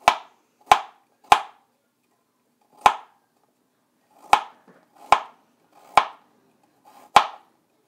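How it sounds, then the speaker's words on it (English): A knife chops ginger on a cutting board in eight sharp, loud, isolated strikes with uneven gaps, close and clear against near silence. "So let's start mincing."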